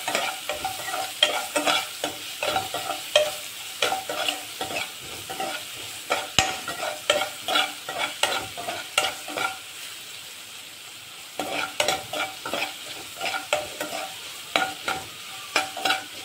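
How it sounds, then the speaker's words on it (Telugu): A spoon scrapes and stirs in a hot pan where turmeric is frying, with a soft continuous sizzle underneath and close, irregular clinks and scrapes of the utensil throughout. "అలాగే కొంచెం పసుపు వేసుకుని 1 నిమిషం ఫ్రై చేసుకోవాలండి."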